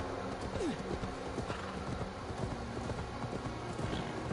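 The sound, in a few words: horse riding in video game Assassin's Creed Valhalla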